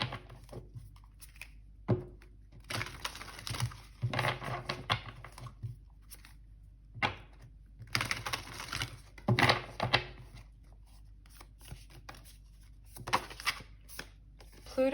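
Oracle cards being shuffled and drawn during a pick-a-card reading, giving bursts of soft papery riffling and flicking between pauses, close and moderately quiet, with short gaps of near silence.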